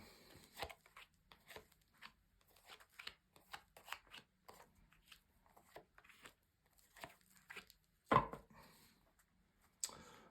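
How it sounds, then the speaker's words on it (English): Soft, irregular riffling and slapping of tarot cards being shuffled and laid down, quiet and close, with brief pauses between bursts. "So a good shuffle, and let's lay down your 10 cards for the week."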